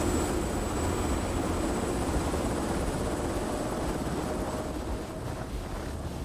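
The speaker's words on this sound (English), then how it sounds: "The helicopter is still turned on." Helicopter engine from the video game Nuclear Nightmare, idling steadily as a continuous, fairly loud mechanical drone with a constant whine throughout, no voices on top.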